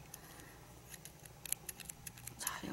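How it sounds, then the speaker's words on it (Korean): Scissors snip the seam allowance of a black knit fabric blouse, a run of small, close, quiet crisp cuts in quick irregular succession. "박은 데를 가위밥을 주세요."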